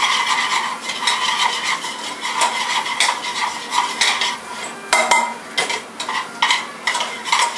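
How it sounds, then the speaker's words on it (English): Italian sausage and ground beef being stirred in a pan, a steady scraping and clinking of utensil against cookware over a light sizzle, close and continuous with no talk. "Stir this meat up a little bit."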